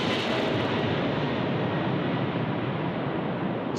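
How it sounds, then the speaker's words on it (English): Atlas Air Boeing 747 cargo plane on short final to runway 25 at Sydney Airport on a windy day, a loud, steady roar of jet engines blended with wind, continuous throughout. "The Atlas Air now short finals runway 25"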